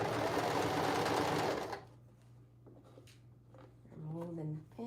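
Sewing machine stitching a skirt runs loud and steady for under two seconds, then stops; quiet handling noises and a brief voice follow.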